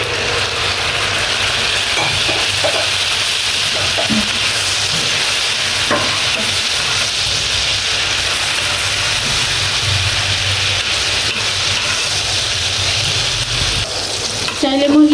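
Chopped tomato frying in oil in a pan while making Dhaka-style chicken chaap, a steady loud sizzle running throughout, with a few stirring clinks and a sharper burst of sizzling near the end.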